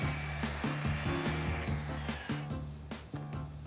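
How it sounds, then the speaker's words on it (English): A power sander works over a wooden board during a kitchen makeover, a continuous loud droning hum with a steady pitched motor tone that wavers slightly throughout, close and alone. "Gotta get this sanded."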